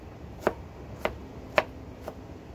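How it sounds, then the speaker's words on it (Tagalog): A knife finely chopping onion on a board: four separate, evenly spaced sharp taps over a faint background hum, with no voices. "So liitin lang yun lang ng hiwa yung sibuyas nyo"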